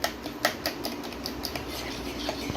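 A utensil whisks oil into egg in a bowl for banana cake batter, making quiet, repeated light clinks and scraping taps against the bowl in a steady rhythm, alone and close.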